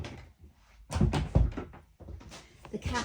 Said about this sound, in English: I'm just going to shut my studio door.